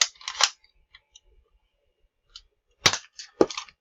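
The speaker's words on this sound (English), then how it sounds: "It only takes me a couple more shots." Sharp, sudden gunshots crack out in small clusters, a pair near the start and a quick burst of three later, each loud and brief with near silence in between.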